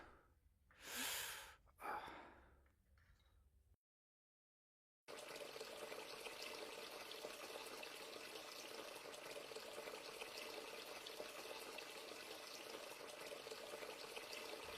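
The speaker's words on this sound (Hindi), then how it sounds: "मैंने ही सिंक का पानी खुला छोड़ा था ना" Water runs steadily from an open sink tap, a constant broadband rush lasting about ten seconds after two breathy gasps and a brief silence.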